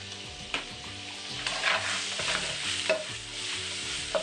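Squid and shrimp frying in oil in a pan while being stirred: a steady close sizzle broken by repeated scrapes and knocks of the stirring utensil, with no voices.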